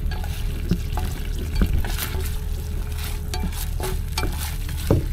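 Mud crab frying in a pan at a wharf, a steady sizzle broken by scraping stirs and occasional louder clacks of the utensil against the pan, close and alone without talk.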